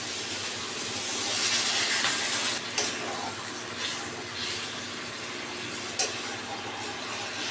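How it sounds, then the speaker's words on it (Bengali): Spice-rinse water poured into a hot pan of braised chicken, giving a broad loud hiss that swells and slowly fades, with a couple of sharp clinks, close and with no talk. "আমি এখন এই যে বাটিতে মশলা ধোয়া জলটা নিয়েছি, সেটা দিয়ে দিচ্ছি"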